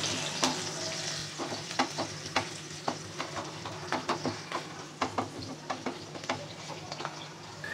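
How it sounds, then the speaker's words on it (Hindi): Onion fries in a pan for potato bharta with a steady sizzle. A spoon scrapes and stirs in quick, regular strokes close to the microphone. "प्याज को मुझे बहुत ज़्यादा ब्राउन नहीं करना"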